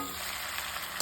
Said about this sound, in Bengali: ভালো করে মাংসটাকে কষিয়ে নিতে হবে